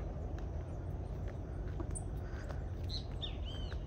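Small birds chirp faintly in wooded hillside brush on Morro da Cruz in Itajaí, a few short high tweets scattered over a steady low rumble of outdoor background noise.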